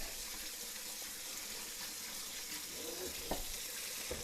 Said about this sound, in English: make sure you wash your cilantro really good. So I'm just going to put it through the strainer here real quick.